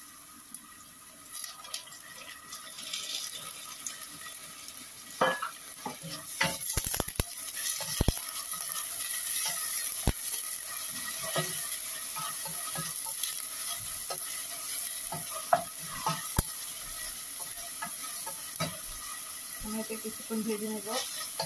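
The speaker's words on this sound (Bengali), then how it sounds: "কিছুক্ষণ ভেজে নেব," Chicken and dry fish fry in a pan with a steady sizzle, scattered sharp knocks and clatters of stirring utensils, and a faint voice now and then in the background.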